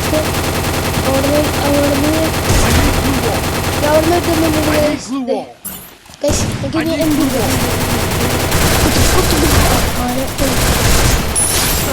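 Rapid automatic gunfire in a Free Fire clash squad match, dense and loud bursts that briefly drop away and resume, with a voice talking over the game sounds.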